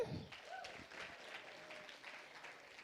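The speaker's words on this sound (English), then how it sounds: "Let's clap for him." Audience applause at a product launch event, a steady spread of clapping from a gathered crowd lasting a few seconds at moderate distance.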